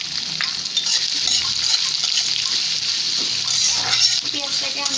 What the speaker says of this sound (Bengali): পেঁয়াজটাকে আমি হালকা ভাজবো, বেশি ভাজবো না।